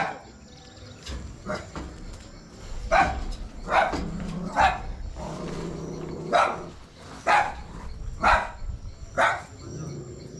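Dog barks in repeated sharp bursts, moderately near, during a police operation outdoors, with some background noise between barks.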